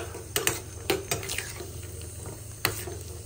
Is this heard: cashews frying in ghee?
yes